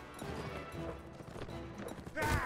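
Horse hooves clip-clop in a quick galloping rhythm across a desert in the Mount & Blade Warband video game, faint and steady, ending in a louder burst of clashing noise.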